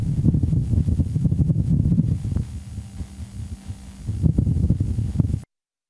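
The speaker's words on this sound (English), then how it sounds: "What you just heard was indeed a Martian breeze, along with some mechanical sounds of the rover itself operating on the red planet's surface." Low, rumbling wind buffets the microphone of NASA's Perseverance rover on the surface of Mars, with faint mechanical noises from the rover, a dull steady roar that dips and swells before cutting off.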